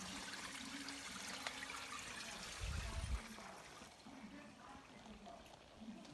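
Mountain spring drinking water trickles through a channel running through a Portuguese village, a soft continuous outdoor dribble with a brief louder gurgle, while someone talks over it.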